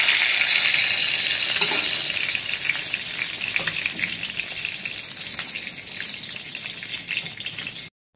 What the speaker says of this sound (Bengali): তো আগে আমি কটা বেগুন ভেজে নিচ্ছি।